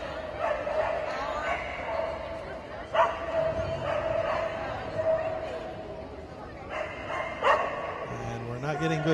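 A dog barks and yips repeatedly on an agility course at a competition, heard under continuous commentary and crowd noise.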